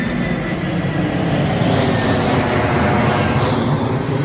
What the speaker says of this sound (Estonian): Opa, lennuk tuleb.